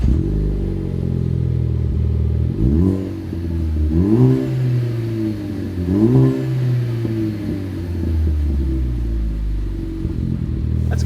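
A Ford Focus ST with an MBRP cat-back exhaust revs repeatedly, each blip swelling into a deep, throaty roar and settling back to a rumbling idle between the revs.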